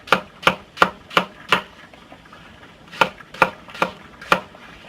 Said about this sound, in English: you want to chop them up.